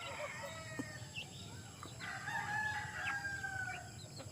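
A chicken crows, a rooster's drawn-out harmonic call rising over steady farmyard background noise, heard alone without talk.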